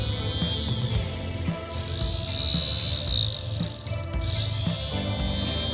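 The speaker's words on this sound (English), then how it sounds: "we'll spin the motor up, make sure that it runs nice" A 1963-64 Cadillac cruise control unit's small electric motor runs on bench test leads, giving a close, steady whirring buzz with rattly gear chatter and a high whine that briefly dips twice before resuming.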